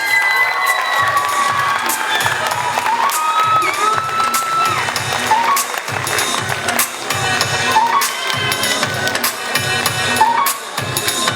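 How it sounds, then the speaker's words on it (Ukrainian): A student beauty pageant audience applauds and cheers loudly and steadily for the contestants, a dense roar of clapping with shouts rising above it, and music beating softly underneath. "Ну що, ще раз аплодисменти для всіх дівчат."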